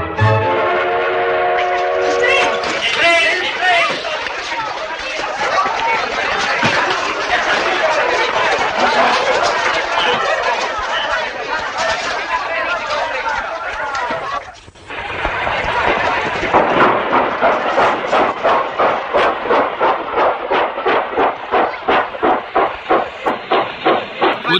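A steam train at a station in a 1960 Argentine film: a long horn blast, hissing steam and bustle, then a rhythmic chuffing that speeds up as it pulls away, with voices talking over it.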